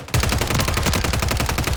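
Rapid bursts of automatic gunfire crackle continuously, loud and close, a steady rattling stream of shots with no pauses.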